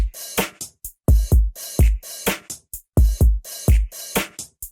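A drum beat programmed from the Glitter Reason stock kit, with booming low kicks, a crisp snare and snappy finger-snap hits in a loud, tight, repeating pattern and no talking.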